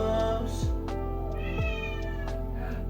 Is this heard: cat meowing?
yes